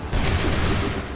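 A musket volley in Assassin's Creed III erupts as one loud, dense crackling roar of many simultaneous shots, lasting about a second.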